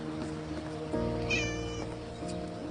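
A cat meows a few times, short plaintive cries standing out over a quiet indoor background, close by and fairly clear.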